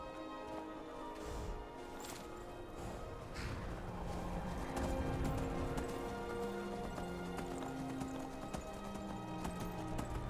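Horse hooves clip-clop in Skyrim Anniversary Edition, a steady close rhythmic patter of hoofbeats running throughout with game music underneath.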